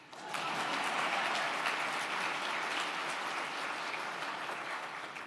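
Evening audience at the New York Public Library breaks into steady, moderately loud applause that swells quickly and continues evenly, tapering slightly near the end.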